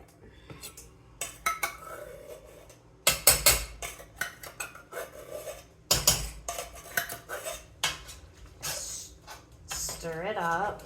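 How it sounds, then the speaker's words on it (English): Sauce going into a pot of homemade chili, with sharp clanks of a utensil against the pot, scraping and stirring noises, and a brief tinny pour near the end, all close by, with some talk. "let's go ahead and put the sauce in."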